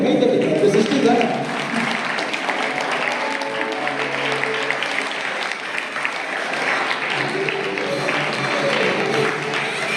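Sustained applause from a gathered crowd welcoming someone at a Christmas celebration, steady clapping throughout with a voice talking over it.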